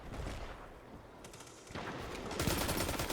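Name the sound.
auto rifle gunfire in Destiny (video game)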